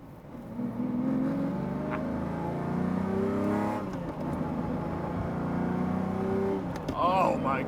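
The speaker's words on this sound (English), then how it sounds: "I am driving my 1997 Lamborghini Diablo SV" A 1997 Lamborghini Diablo SV drives with a deep, loud engine drone heard from inside, rising and falling as it accelerates and shifts, with a brief whine near the end.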